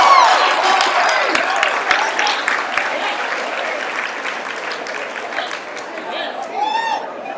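Large audience at a staff success-sharing gathering bursting into sustained applause, dense and loud throughout, with scattered cheers and whoops rising near the end and crowd chatter mixed in.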